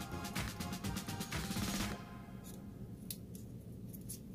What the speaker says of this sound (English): You can use a knife, or I like to actually use scissors.